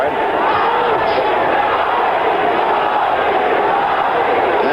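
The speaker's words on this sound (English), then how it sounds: "you hear the crowd in unison chanting Ali, Ali" A boxing crowd at the 1977 Muhammad Ali vs Alfredo Evangelista fight chants Ali's name in unison, a loud, dense, continuous roar filling the arena.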